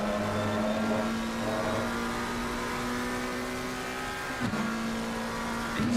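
A McLaren race car's engine screams at high revs in Assetto Corsa Competizione at the Barcelona circuit, a steady, droning high-pitched whine heard from behind that holds for several seconds, with a brief shift near the end.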